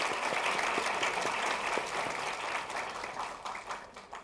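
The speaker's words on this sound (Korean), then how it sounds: "자, 박수로 환영." A university lecture audience claps to welcome a guest, with sustained, fairly close applause that gradually thins and becomes more scattered toward the end.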